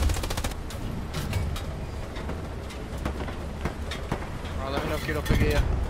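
Gunfire in the World War II shooter Hell Let Loose, a string of close shots cracking over constant battlefield noise, with voices talking in the background.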